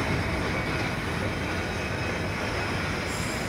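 Riding aboard a tram in Milan: a steady, loud rolling rumble with a rattling, hissing wash of wheel and car noise that holds constant throughout.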